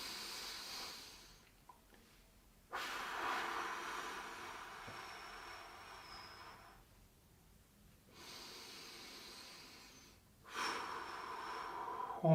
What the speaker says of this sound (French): on va réaliser ainsi 3 respirations profondes par étirement